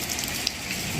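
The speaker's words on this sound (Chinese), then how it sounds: "自从我上来，这雨就没停过" Steady rain falls at the gate of a mountain temple during a prolonged downpour, a continuous soft hiss of drops on surfaces with no voices.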